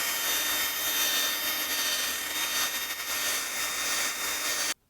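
A power drill polishing a car headlight whirs steadily and continuously for several seconds with a grinding, rubbing hiss, then cuts off abruptly at the end.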